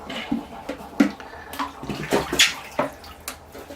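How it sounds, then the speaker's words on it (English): Water splashed by hand onto the bare roots of a young giant sequoia during root pruning outdoors, a run of close, uneven sloshing splashes and drips with no talking. "I'll keep kind of splashing these roots with water just to keep them from drying out."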